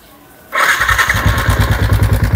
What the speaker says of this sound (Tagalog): susubukan natin i-push-start kung umaandar naman yung motor